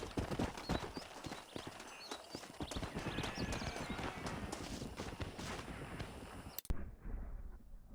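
Horse hooves clip-clop at a quick, steady gait in the Red Dead Redemption video game, close and continuous. Faint gunfire sits in the background, and everything cuts off abruptly near the end.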